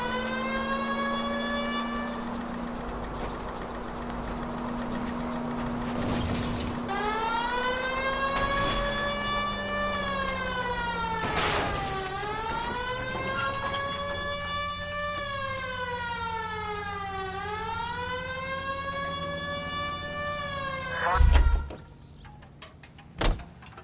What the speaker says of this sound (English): At least if you put the siren on, it'll let people know what's happening before you hit them, Phelps.